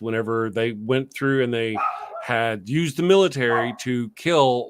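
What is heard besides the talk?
puppy dog barking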